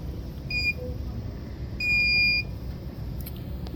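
A laser engraving machine gives two clear electronic beeps, a short one and then a longer tone about a second later, over a steady low machine hum.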